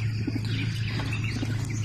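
Soft scattered bird calls and low cooing from about 77 racing pigeons settled in a loft, over a steady low hum.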